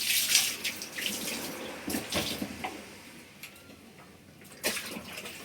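Water is poured and splashed to rinse sand from the floor of a ship's engine room, coming in uneven gushes and splashes with brief louder bursts and quieter stretches between.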